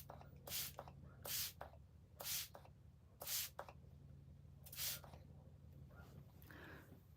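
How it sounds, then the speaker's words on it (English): Makeup setting spray hisses toward a face in five or six short, sharp bursts spaced about a second apart, close and crisp over a low steady hum. "spray it like up and then angle it so it hits your face"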